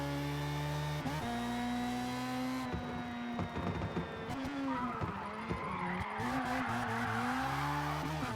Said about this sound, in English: Yeah, I know, a little handbrake turn there